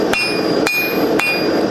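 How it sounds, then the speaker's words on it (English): A hand hammer strikes hot steel on an anvil while forging a gouge, three evenly spaced sharp metallic clangs with ringing overtones, close and loud. "So I have my hammer ready, got my tongs, no glove in this hand, glove in the tong hand."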